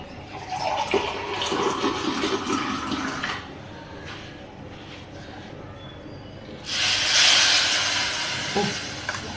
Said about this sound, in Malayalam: ഇനി അതിൻ്റെ അകത്തേക്ക് നമുക്കൊരൽപ്പം വെള്ളം ഒഴിച്ചു കൊടുക്കാം